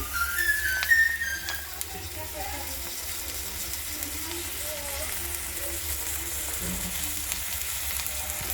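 Vegetable bhaji frying in a pan on a gas stove, a steady soft sizzle running throughout with faint clinks and a brief whistle-like tone early on.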